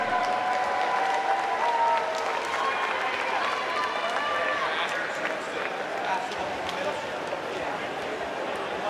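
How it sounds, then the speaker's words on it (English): Sustained applause from a crowd at college club swimming nationals in Greensboro, a steady dense clapping wash filling the clip at even loudness, with an announcer's voice over it. "one more round of applause for Rachel"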